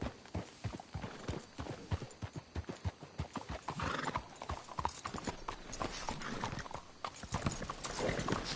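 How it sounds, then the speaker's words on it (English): Horse hooves clip-clop steadily through a Red Dead Redemption 2 game scene, several horses walking in an irregular rhythm with an occasional whinny, fairly close and continuous throughout. "Let's hitch the horses up ahead."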